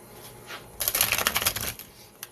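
Tarot cards being shuffled for a reading, a burst of dense riffling and flicking in the middle, fairly close and moderately loud, with quieter handling before and after and no talk.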